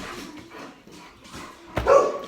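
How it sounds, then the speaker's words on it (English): A pet dog barks once near the end, a short close bark following a stretch of muffled low household noise. "Fucking dog."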